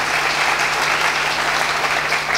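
An audience at a religious discourse on a saint's life claps steadily and continuously, a dense, even wash of applause with no talking over it.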